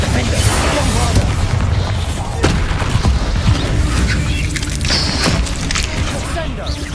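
Explosive Bombarda spell cast in the Hogwarts Legacy video game, with dense booming blasts and crackling impacts under continuous loud combat noise throughout.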